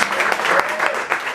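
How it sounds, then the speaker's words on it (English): A poetry salon audience at a writers' conference bursts into a short, lively round of applause, many hands clapping close together in a brief, dense flurry. "please give a round of applause just for the sake of community in the arts"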